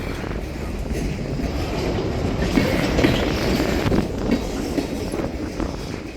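Train cars hauled by SW900 switcher locomotives roll past close by, a loud continuous rumble with clattering wheels and faint squeals that swell mid-pass, with no voices.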